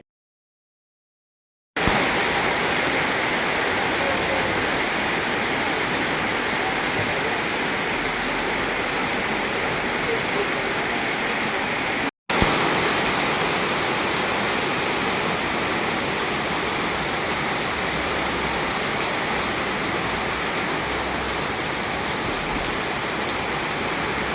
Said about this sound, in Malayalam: ചെറുപുഴയിൽ അരമണിക്കൂറോളം മഴ തകർത്ത് പെയ്തത്